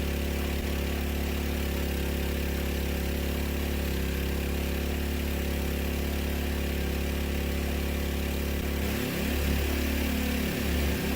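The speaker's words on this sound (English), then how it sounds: "Don't try to force your shaft down. Let the pump do the work." A small water pump engine drones steadily while a well is being dug, a continuous motor hum that shifts pitch near the end, heard alone without talking.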